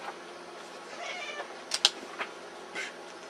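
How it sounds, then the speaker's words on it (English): A cat meows in a couple of short, close cries with a faint later call, over a quiet room hiss and no talk. "Shut up, kitty."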